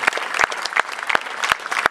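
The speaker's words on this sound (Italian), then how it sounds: "Un applauso davvero, ma sono fantastici" Brief audience applause at a music festival in Trani, with dense, lively clapping close by for about two seconds.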